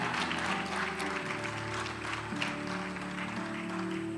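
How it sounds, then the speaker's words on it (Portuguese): Church congregation applauding during a morning service, a steady wash of clapping with sustained organ or keyboard tones running underneath throughout. "Aplauda Jesus aí."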